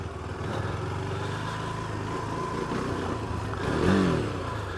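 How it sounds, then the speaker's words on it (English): A Husqvarna Svartpilen 401 naked motorcycle ridden off-road over rocky ground, its engine droning steadily throughout with a brief louder swell of revs near the end, no talk. "Can you ride a Svartpilen off-road?"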